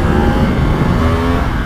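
A 2022 Yamaha MT-10 motorcycle engine drones steadily at close range, loud and continuous with a rough low rumble and slight rises in pitch.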